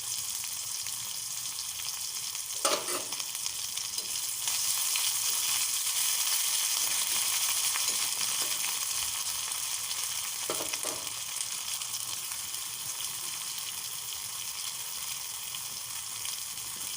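Ginger paste fries in a pan for khichuri made with Gobindobhog rice, a steady, fairly quiet hiss of hot oil with a couple of brief stirring scrapes.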